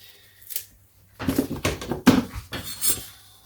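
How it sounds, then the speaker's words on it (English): A knife chops fresh garden parsley and rosemary on a board: a quick burst of sharp, close taps in an uneven rhythm after a lone knock and a short pause, with no speech. "Chop this nice and fine."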